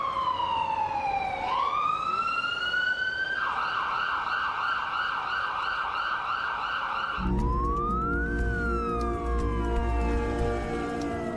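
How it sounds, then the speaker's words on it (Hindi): Emergency vehicle sirens in Kyiv, from ambulances and fire brigade trucks, wail loudly and continuously, shifting from a sweeping wail to a rapid yelp and then a second overlapping siren with engine rumble beneath. "एम्बुलेंस जान बचाने के लिए दौड़ रही है।"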